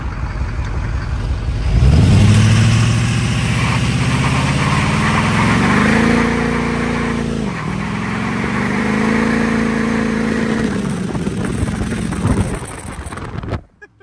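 A Duramax diesel pickup engine runs close by, rising from a steady idle into sustained revving, dipping briefly and revving again before cutting off near the end, with wind buffeting the microphone.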